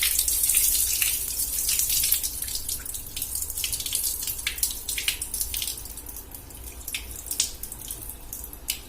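Tap water running freely into a sink while poha is rinsed and soaked, a steady splashing gush with irregular spattering bursts as the flakes are stirred under the stream, close and alone.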